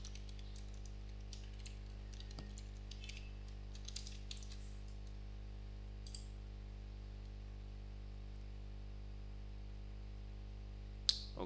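Faint, scattered keystrokes on a computer keyboard as a captcha is typed, bunched in the first few seconds, then mostly quiet against a steady low hum, with one sharper click near the end.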